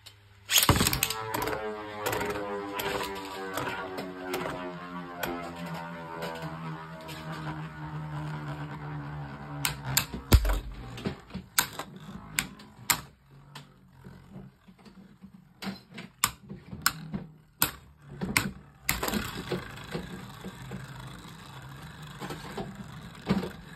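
Beyblade Burst tops launched into a stadium, a ripcord zip followed by rapidly spinning tops whirring and clacking against each other, with sharp collision clicks growing more scattered as the spin slows.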